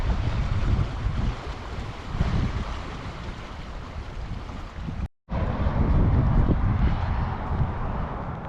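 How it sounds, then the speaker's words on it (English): A fast-flowing river rushes past a roadside rest area, a steady, broad roar of moving water with wind buffeting the microphone and one brief dropout partway through. "that's a fast river though"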